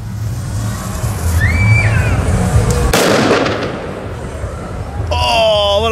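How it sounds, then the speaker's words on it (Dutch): Loud illegal cannon-cracker firework exploding at a fair in Genk, a single sharp blast that rings out over crowd noise and chatter, with whistling rockets nearby. "Oh, wat een kanonslag, hé."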